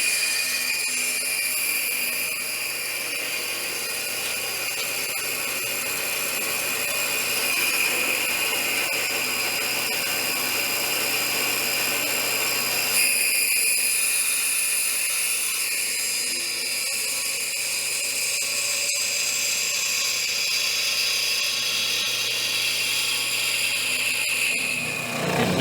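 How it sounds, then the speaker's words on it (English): A table spindle sander whines steadily for a long stretch, its tone shifting slightly partway through as wood is pressed against it. "Here I am sanding it down to the line."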